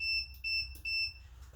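Repeated high-pitched electronic beeps from a multimeter, three or four short tones in a quick rhythm over a low hum, fairly close, while troubleshooting a 3D printer heat bed.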